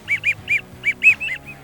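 A duck whistle imitates teal and widgeon calls for waterfowl hunting in Ontario, giving seven short, close whistled peeps in a quick, slightly uneven series.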